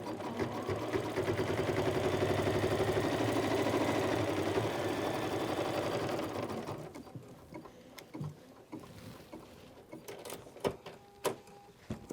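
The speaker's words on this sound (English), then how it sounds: "We are first going to embroider out the block with our roadmap for the piecing." An embroidery machine stitching a winter snowflake quilt block in the hoop, running with a fast, steady mechanical hum and rapid needle rhythm for about six seconds before stopping, leaving faint clicks and quiet room noise.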